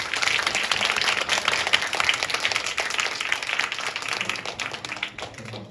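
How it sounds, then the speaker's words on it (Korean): An audience claps steadily at the close of a lecture event. The dense, even applause holds for several seconds and then tapers off slightly at the end. "큰 박수 부탁드립니다"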